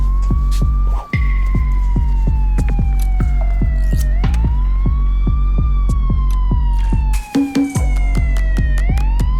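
A police car siren wails loudly and nearby, its pitch rising and falling in long sweeps under a pulsing throb, with no voices heard.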